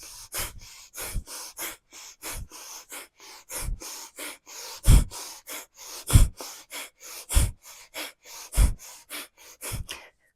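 During a power yoga flow, a person takes deep, rhythmic breaths, with repeated sharp inhales and exhales every second or so, close and clear, with no talking.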